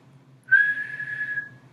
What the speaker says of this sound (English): And now whistle.